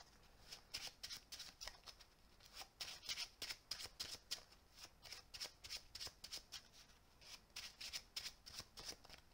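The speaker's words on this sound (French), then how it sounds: "On va remettre ça. Et on va mélanger." Deck of Marvel Champions cards being shuffled by hand, a long run of quick riffling bursts repeating at a steady rhythm, close and crisp with no talking.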